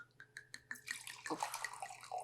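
Wine from the 2017 Barrel No. 33 vintage glugs from a bottle into a glass in a short burst of liquid splashing. It starts with a few quick drips, then a fuller, close pour.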